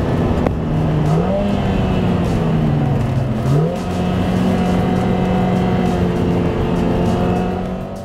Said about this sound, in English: you can hear the ferocity of the most powerful four-cylinder engine in the world